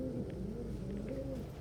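Vinny, a pet pigeon, gives low, soft coos in a short, steady murmur close by, and no one speaks over it.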